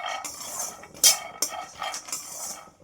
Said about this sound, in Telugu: ఇప్పుడు ఈ పల్లీలు వేయించుకుందాం.